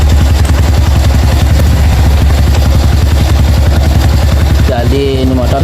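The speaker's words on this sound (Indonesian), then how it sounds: "Jadi ini motor sudah hidup ya." A Honda Revo Absolute motorcycle engine idles steadily after starting, a loud and continuous close-up chug with rapid regular firing pulses, and a voice briefly cuts in near the end.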